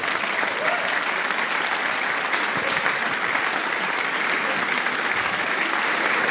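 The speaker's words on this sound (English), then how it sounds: "Give yourself a round of applause." Steady, dense applause from a comedy-show audience rolls on continuously at full strength throughout, a broad even wash of many hands clapping.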